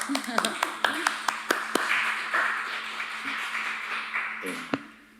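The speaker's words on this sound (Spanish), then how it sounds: "yo te doy un aplauso" A handful of sharp claps ring out near the start of a book presentation, spaced unevenly over the first two seconds, over steady talk and room murmur.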